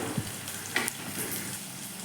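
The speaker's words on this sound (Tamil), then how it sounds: "கட் பண்ணி வச்சுருக்க வெங்காயத்தையும் சேர்த்துட்டு அதுக்கு தேவையான அளவு உப்பு சேர்த்துட்டு நம்ம வதக்கிக்கணும்." Onions sautéing in oil with mustard seeds and salt, a soft, fairly quiet sizzle with a few light spoon scrapes and clinks over a couple of seconds.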